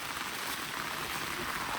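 Steady, dense hiss of heavy rain pouring down on a campsite in Atok, Benguet, unbroken and fairly close.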